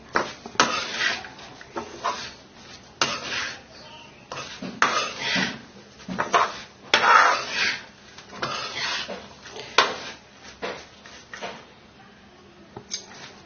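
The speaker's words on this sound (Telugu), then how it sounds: "మొత్తం అంతా బాగా కలుపుకోవాలి." A spoon stirs a dry upma rava mixture with salt in a pan, making repeated scraping and rustling strokes in a steady, uneven rhythm. It is close and moderately loud, with small clinks against the pan and no talking.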